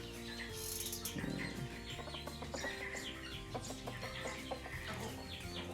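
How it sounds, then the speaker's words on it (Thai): Chickens clucking and fowl calling on a Thai farm where hens and young chicks are kept, a busy, fairly faint mix of clucks and chirps with brief flapping over steady background noise. "โอ้ไก่มันร้องนะครับ"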